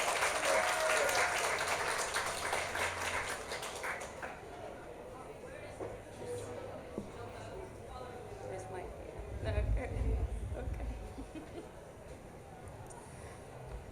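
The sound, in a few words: applause welcoming panelists at a conference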